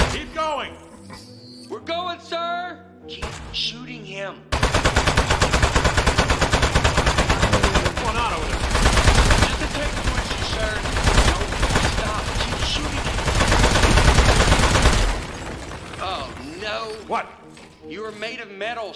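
Rapid, loud bursts of gunfire from the video game Aperture Desk Job, a sustained stream of automatic shots lasting about ten seconds and framed by voices talking before and after.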